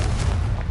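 A Confringo fire spell in Hogwarts Legacy bursts with a loud, deep, rumbling explosion that fills the whole brief moment, booming close and heavy.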